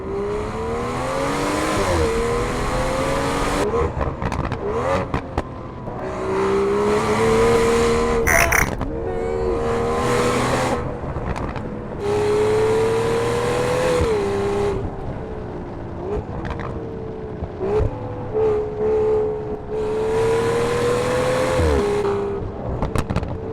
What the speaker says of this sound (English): With the Quicksilver sports exhaust system, you really open up the sound of the engine,